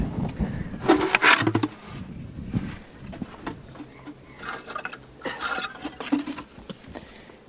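A hand-powered cement mixer turning with an uneven rattling, clanking rhythm, fairly loud and close, with bursts of metallic scraping.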